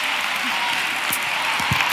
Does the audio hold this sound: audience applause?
yes